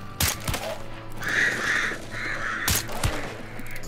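Ravens cawing in the game Hunt: Showdown, harsh calls between sharp gunshot cracks, two at the start and two more near the end, with the cries rising in the middle.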